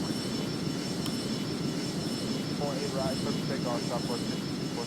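Steady airliner engine drone from the Airline Commander mobile flight game, a continuous loud hum with a fixed high tone riding on top, while someone talks quietly underneath partway through.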